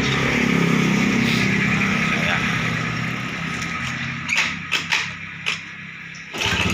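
A Honda Beat ECO scooter engine, just back from a repair shop and prone to sputtering, idles and then revs in several short sharp blips near the end, with people talking over the engine noise.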